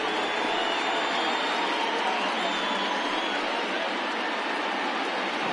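A ballpark crowd of over 39,000 at a Pirates–Cubs baseball game roars steadily on its feet with a final strike looming, a dense, sustained wash of cheering with no break.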